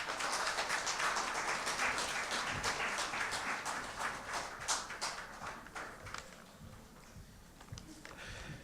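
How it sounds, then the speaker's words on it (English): An audience at a corporate public speaking semi-final gives a round of applause, steady clapping heard from a distance in a hall, fading gradually toward the end. "Give him a round of applause."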